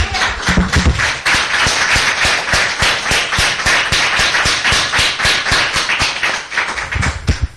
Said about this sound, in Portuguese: Vamos dar uma salva de palmas para esse Deus?